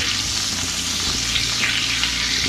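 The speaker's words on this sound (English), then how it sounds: "so you just get that going and have the butter incorporated with the oil" Butter melts into hot oil in a frying pan, giving a steady, close, continuous sizzle and crackle with no voices.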